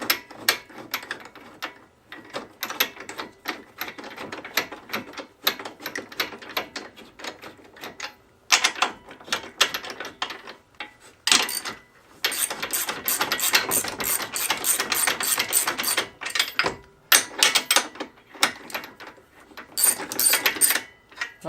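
A ratchet wrench tightening bolts on a CF Moto 800 XC Touring ATV front bumper, rapid clicking bursts close by in repeated runs separated by short pauses, loudest in the second half.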